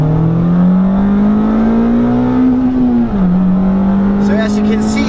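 A Mazda MX-5 ND G184 with sport exhaust, cams and a short rear axle pulls hard, its loud, close engine note climbing steadily, dipping briefly at a gear change, then rising again.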